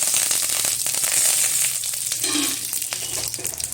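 Curry leaves with whole black pepper, coriander and cumin seeds sizzling in hot oil, a loud close crackling fry with sharp spitting pops and a brief stirring scrape.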